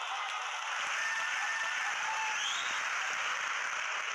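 An audience at a network marketing seminar claps in a steady, dense wash of applause that holds evenly throughout, with no voices over it.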